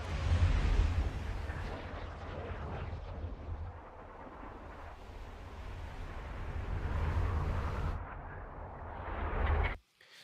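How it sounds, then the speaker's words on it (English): A trebuchet projectile whooshing through the air in the video game Kingdom Come Deliverance 2, heard as a sustained, roaring rush of wind with a heavy low rumble that surges and ebbs for about ten seconds before cutting off abruptly. "some whooshes and flying of the projectile."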